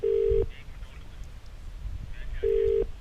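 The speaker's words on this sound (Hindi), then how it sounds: "बेल जा रही है, घंटी जा रही है," Ringback tone on an outgoing phone call: two steady electronic tone bursts about two seconds apart, clear and near, with faint background noise between them.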